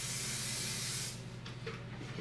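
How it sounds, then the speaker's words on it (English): An aerosol can of hairspray mists onto curled hair in a steady, close hiss lasting about a second, then cuts off, leaving quiet room tone with a faint low hum. "I'm going to hit it with some hairspray."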